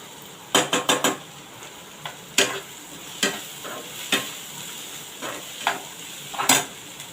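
Ridge gourd curry with onion and tomato sautéing in a pan while a spoon stirs and scrapes, giving sharp metallic clinks and taps in irregular bursts over a faint sizzle, close by with no talking.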